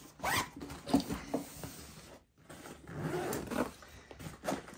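The double zips on the main compartment of a 5.11 LV8 sling pack are pulled open in several close, scratchy rasping strokes, with a brief silent pause midway.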